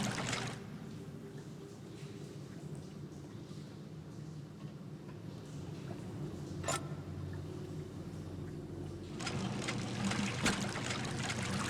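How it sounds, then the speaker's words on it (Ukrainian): Water draining and trickling in the game Sherlock Holmes: The Devil's Daughter, a steady watery rush throughout with a brief splash partway and a louder burst near the end, no talk over it. "Я типу упустила воду."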